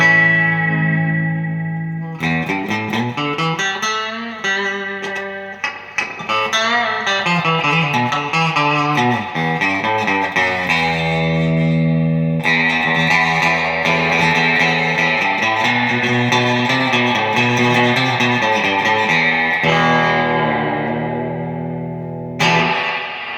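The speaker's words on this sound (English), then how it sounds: "so that was the Fender reverb, obviously." Electric guitar played through the heavy spring reverb of a Fender amplifier, notes and chords ringing out with long echoing tails, loud and alone.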